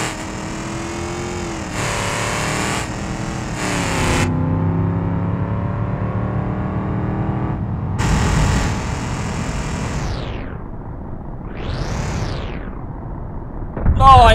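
A BeamNG.drive truck engine with hood stacks revs loudly, its pitch climbing and dropping in repeated surges, with bursts of noise and a voice heard briefly.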